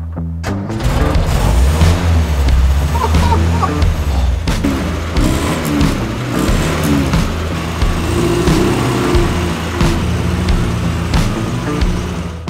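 A Land Rover Series 3 engine, unused for a long time, cranks and fires into a loud, steady, rough idle with a heavy low rumble that continues without a break from start to finish.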